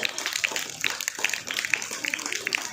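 Children at a school prize distribution clap in quick uneven bursts, a scattered, moderately loud patter of many small hands with faint voices underneath.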